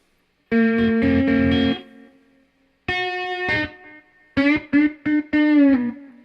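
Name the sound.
Caline Ghost Rain reverb delay guitar pedal echo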